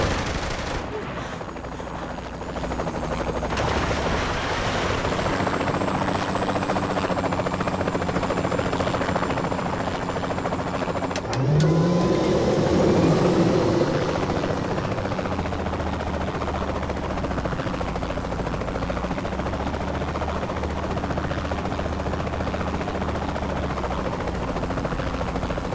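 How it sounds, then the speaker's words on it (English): Helicopter in Saints Row The Third Remastered, a steady low rotor drone running throughout under bursts of gunfire and game noise, with a brief louder swell in the middle. "Check that helicopter!"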